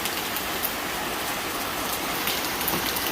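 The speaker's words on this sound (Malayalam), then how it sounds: "മഴ തുടങ്ങി." Rain begins falling outdoors at a home, a steady broadband patter of drops on surfaces, even and moderately loud from start to finish with no voices.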